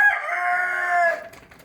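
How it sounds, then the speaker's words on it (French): Several roosters crow loudly and close at night, around a quarter to ten, on a poultry farm, their drawn-out calls overlapping and then fading. "j'ai mes coqs qui chantent vraiment à fond les ballons là"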